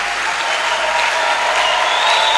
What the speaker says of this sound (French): Est-ce que nous pouvons très très bien acclamer le nom du Seigneur?